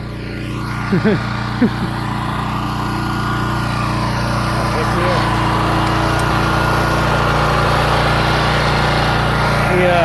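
BCS 739 walk-behind tractor engine running steadily in first gear, its tiller lowered a notch while breaking ground and chewing through weeds in a back plot; a constant close drone with brief talk early on.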